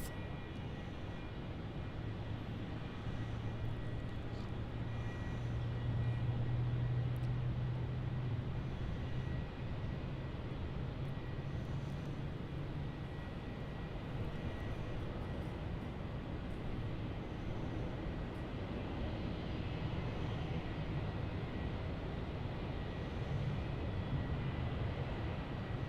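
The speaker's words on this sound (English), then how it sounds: "the Virgin Australia 737-800, going off to Adelaide as VA 1404. Taxiing onto the runway now" A Virgin Australia Boeing 737-800 taxiing onto the runway at Brisbane Airport, a steady distant jet engine rumble and whine holding level throughout with no break.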